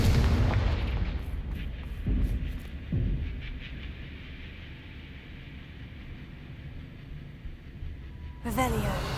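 Spell explosions from Confringo in the Hogwarts Legacy video game, a series of deep booming blasts and rumbling impacts at roughly two to three seconds and again near the end, with game background noise throughout.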